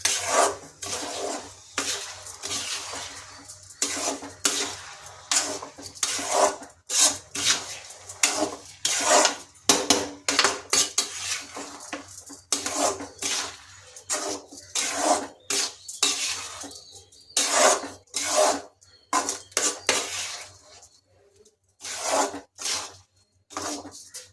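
Repeated scraping and clinking of a utensil against a metal pot, an irregular busy rhythm of stirring strokes while frying vegetable biryani ingredients in ghee, close and fairly loud.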